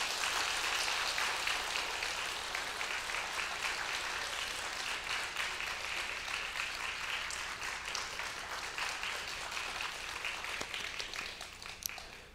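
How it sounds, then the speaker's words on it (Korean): Sustained applause from a large church congregation at a Wednesday prayer meeting, steady clapping that fills the whole stretch and tapers slightly toward the end. "모두 박수로 격려해 주시기 바랍니다"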